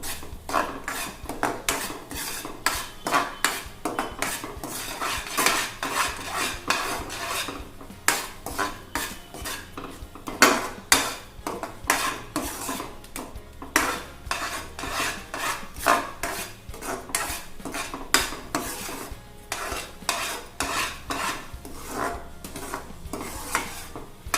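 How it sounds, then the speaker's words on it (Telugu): Ravva kesari with fried dry fruits is stirred in a metal pan: continuous rapid scraping and clinking of a spoon against the pan, loud and close, in an irregular rhythm lasting throughout, no voices. "ఆల్రెడీ ఫ్రై చేసుకొని పక్కన పెట్టిన డ్రై ఫ్రూట్స్ని యాడ్ చేసుకోవాలి ఒకసారి బాగా మిక్స్ చేసుకోవాలి"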